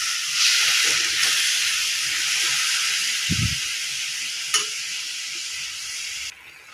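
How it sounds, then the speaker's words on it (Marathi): Beetroot halwa simmering in milk in a pan gives off a steady, fairly loud hiss and faint bubbling that runs throughout, with a brief low thump near the middle and a short click toward the end. "दुधामध्ये हलवा शिजवून घ्यायचा आहे"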